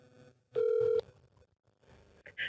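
A telephone call ringing out to the wrong contact, a single steady ringback tone held for about half a second, fairly loud, followed by quieter room sounds and faint voices.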